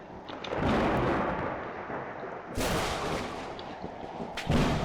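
Thunderstorm with a tornado inside a Roblox game: continuous loud rumbling rain-like roar with several heavy thunder crashes, sharp bursts near the middle and the end.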